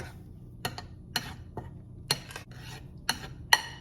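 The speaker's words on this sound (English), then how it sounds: "We're gonna stir it." Spoon stirring flour into a pot of soup to thicken it, giving a series of sharp metallic clinks and scrapes against the pot at an uneven pace, close and fairly quiet with no talk.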